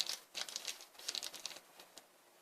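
Crinkling and tearing of small Mi Goreng sauce packets being cut open, a quick, close, quiet series of crisp plastic rustles and snips with no talking.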